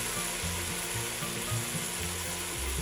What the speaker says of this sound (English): So, like I said, I just want to do a little bit of a sear on this.